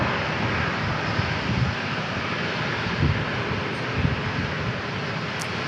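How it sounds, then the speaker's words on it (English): A Delta jet airliner from Detroit landing at San Diego International Airport, a steady broad engine roar held at an even level throughout with no talk. "And Delta 2155 from Detroit landing next."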